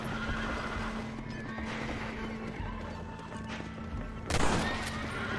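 Horse whinnying in the western video game Red Dead Redemption, a neigh near the start and a louder sharp burst toward the end over a busy layer of game ambience and hoofbeats.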